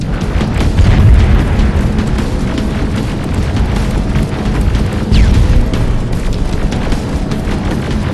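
Heavy rolling booms and blasts from grenade combat in Terminator: Resistance, a sustained loud rumble of explosions over several seconds with no clear gaps.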